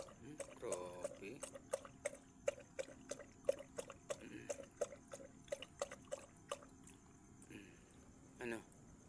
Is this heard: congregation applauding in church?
no